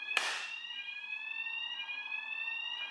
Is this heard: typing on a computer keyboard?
no